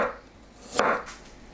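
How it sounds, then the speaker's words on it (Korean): A knife slicing garlic cloves on a cutting board, a couple of soft cuts with one sharper chop in the middle, close and fairly quiet, with no speech. "마늘 6개를 편으로 썰어주세요"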